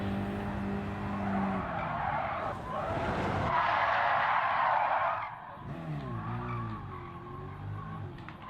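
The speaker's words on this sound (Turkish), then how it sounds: "Bu araba çok iyi viraj alıyor" A race car in Gran Turismo 7 takes a corner, its engine droning and shifting pitch while the tires squeal and skid loudly through the middle of the turn, then the engine note settles again.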